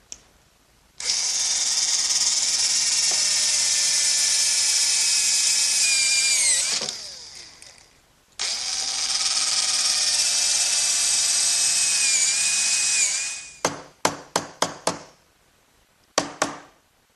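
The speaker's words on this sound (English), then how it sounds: "So I'll do that by using a brad point bit and a chisel to remove" A power drill with a brad point bit bores into wood for a workbench, two long steady whining runs of about five seconds each, then several short bursts, close and loud.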